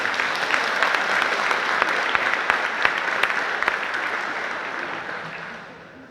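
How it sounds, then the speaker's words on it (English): An audience at a farming conference panel session applauds, a broad continuous wash of clapping that holds steady and then gradually fades away. "Horan, and Donal Sheehan, so take a round of applause."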